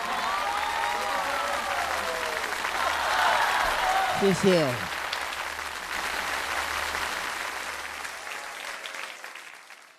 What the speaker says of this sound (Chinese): 感谢您各位的掌声鼓励。